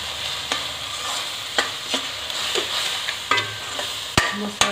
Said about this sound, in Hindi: और इन मसालों को अच्छे से हम मिक्स करते हैं।